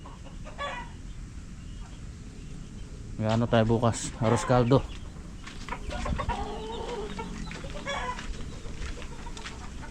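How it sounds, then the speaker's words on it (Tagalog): Hens cluck and murmur nearby with a brief louder squawking burst, while people talk over the flock. "Mga manok natin dito."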